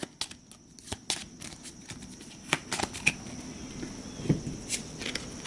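A deck of cards for the Astro Knights board game is given a quick shuffle at close range, with soft riffling bursts and scattered crisp clicks and snaps, no talking.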